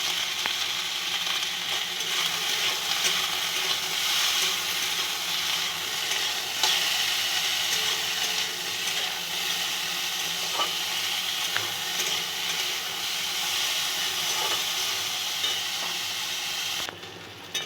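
Shukto vegetables with drumstick pieces and salt sautéing in a pan, a steady close sizzle and crackle with occasional stirring scrapes and no talk, cutting off near the end.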